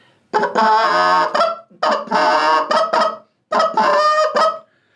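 A goose call imitates Canada goose honks in three loud, close bursts of rapid, rhythmic honking and clucks, each separated by a short pause.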